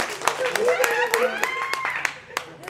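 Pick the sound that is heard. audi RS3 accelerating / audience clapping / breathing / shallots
audience clapping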